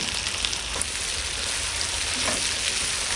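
Ginger garlic paste and fish masala fry in a hot pan, making a steady, close sizzle of crackling oil with faint stirring noises and no voice.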